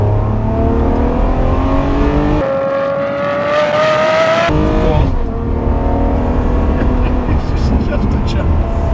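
A Ferrari 599 GTO V12 engine revs after a downshift from around 4,000 rpm, a loud, rising howl with clear harmonic pitch sweeps, dipping briefly then climbing again close up.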